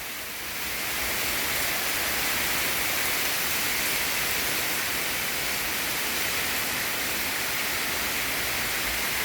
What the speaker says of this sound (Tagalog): malakas yung ulan, mahangin pa.